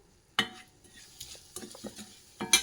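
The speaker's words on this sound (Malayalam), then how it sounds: "ഉലുവാപ്പൊടി, കായപ്പൊടി ഇതെല്ലാം കൂടി ഇട്ട് ഇളക്കണം." A spoon stirs fenugreek powder and asafoetida powder in a pan, giving a few close, sharp scrapes and clinks over a faint sizzle.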